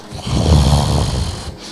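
A man vocally imitates a loud snore, one long rasping, throaty inhalation that rumbles for over a second before trailing off, close and alone.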